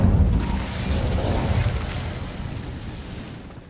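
An Incendio fire spell cast in the Hogwarts Legacy video game gives a loud, dense fiery burst that booms at the start and then slowly fades as it roars on.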